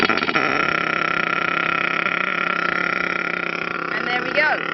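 A small RC nitro engine runs just after starting up, a buzzing, rapid drone held steady and close, with a brief rising whine near the end.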